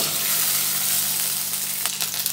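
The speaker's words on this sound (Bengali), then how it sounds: "দিয়ে ঢেঁড়সগুলো একটু ভেজে নেব।" Okra fries in a little oil in a wok with a loud, continuous, close-up hiss and sizzle, ending in a few brief crackles.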